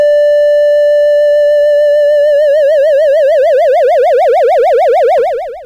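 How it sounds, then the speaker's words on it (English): A synthesizer sine tone starts steady, then an LFO is turned up so that its pitch wobbles faster and wider, giving a loud vibrato warble before it cuts off near the end. "And I'm just turning the modulation LFO up."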